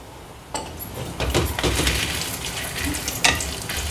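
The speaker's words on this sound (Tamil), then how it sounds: "அடுத்தது நம்ம இதுலேயே இஞ்சி போட்டுக்கலாம். இஞ்சி சேர்த்து வதக்கணும்." Ginger and red chilies sautéing in a pan for a tangy lunch gravy, a steady sizzle with stirring scrapes and a sharper spatula clink near the end, close and fairly loud, no talk.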